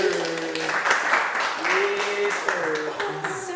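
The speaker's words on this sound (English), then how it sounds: "Clap it up, guys" Applause and clapping greet a guest, football player Hendon Hooker, rising and falling over a few seconds while voices talk over it.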